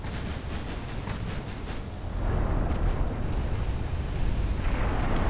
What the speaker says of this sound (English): lots of ammo detonations in the secondary magazines, which can end up going into your main magazine